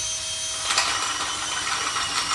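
A power drill whirs steadily in a continuous high-pitched drone, fairly close and uninterrupted.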